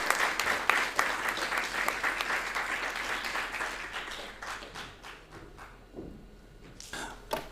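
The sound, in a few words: audience round of applause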